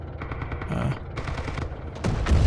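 A Lahti-Saloranta M/26 light machine gun fires in a Winter War video game, loud bursts of rapid shots with a short break midway, sharp close reports and no voices.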